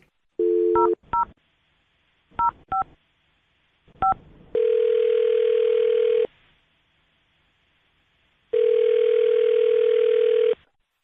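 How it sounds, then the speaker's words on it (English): A few short telephone keypad tones beep, followed by two long, steady ringback-style tones separated by silence, clear and close. "I'm going to dial the phone number right now."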